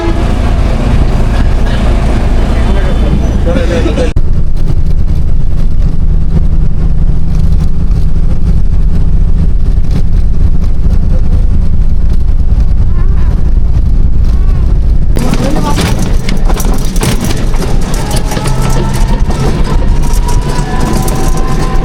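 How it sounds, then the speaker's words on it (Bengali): Interior of a moving bus, a loud continuous engine and road rumble with rattling, its character shifting abruptly twice as the ride goes on, with no clear talk over it. "আমরা বাসে উঠে গেছি"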